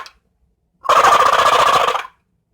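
A Quaker Boy Gobble Shaker turkey call shaken to imitate a young, raspy male turkey gobbling: one loud, close, rapid rattling gobble of just over a second after a short silence.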